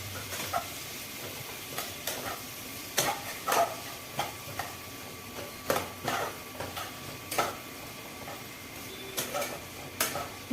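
Egg dopeyaja with capsicum sizzles steadily in a wok while a spatula scrapes and taps the metal in an irregular rhythm.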